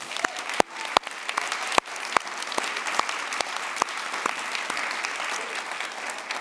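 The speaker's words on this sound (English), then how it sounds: "Please join me in a round of applause for Rebecca Rapp." An audience applauding a speaker at a justice conference panel, steady clapping from a moderately sized crowd with several sharp individual claps standing out nearby, sustained throughout without speech.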